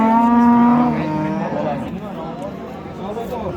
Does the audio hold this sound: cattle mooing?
yes